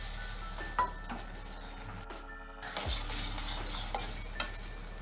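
Spices being stir-fried in a pan for a Bengali potol (pointed gourd) mustard curry, with steady sizzling and a few spatula stirs, near and moderately loud, briefly interrupted.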